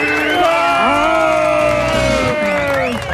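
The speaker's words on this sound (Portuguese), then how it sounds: "Palmas para professor Marco Antônio Vila." A studio audience on a Jovem Pan program greets guest professor Marco Antônio Villa with loud cheering, whoops and drawn-out shouted voices over a steady crowd roar, with some clapping mixed in.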